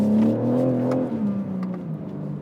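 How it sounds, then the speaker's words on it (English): A 2021 BMW M3 Competition G80 drives past or along with a steady mid-pitched engine drone that rises slightly then eases off, loud and close, with no talking. "Today I have the privilege of driving the brand new BMW M3 Competition."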